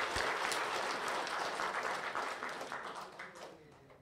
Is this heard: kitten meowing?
no